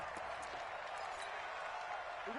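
Stadium crowd noise in a PS4 American football video game, a steady, faint roar of cheering that holds at an even level throughout without distinct peaks.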